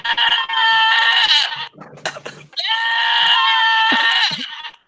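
Goat bleating sound effect: two long, loud, wavering bleats close up, separated by a short burst of rustle and clatter.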